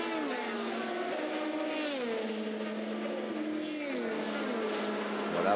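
Race cars at the 24 Hours of Le Mans 2019 roar continuously, with engine tones rising and falling through gear changes as several cars pass, loud and sustained.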